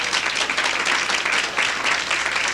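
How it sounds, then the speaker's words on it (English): Audience applause in a 1981 comedy club during a joke-rating show, a steady patter of hands that sounds like more than one person, continuous and moderately close for the whole stretch. "The only guy clapping is the one that raised his hand"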